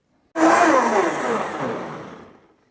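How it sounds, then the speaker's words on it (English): A full power blender whirs through bulletproof coffee, starting abruptly with a loud roar that holds briefly, then gradually fades and stops after about two seconds. "You'll notice we're using a full power blender."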